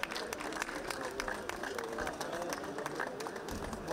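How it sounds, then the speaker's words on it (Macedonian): A crowd claps at an outdoor Christmas Eve celebration at the cathedral church in Skopje. The irregular, moderately loud applause mixes with crowd chatter and nearby voices. "да го поздравиме со голем аплауз нашиот здравичар за 2025 Атанас Петров"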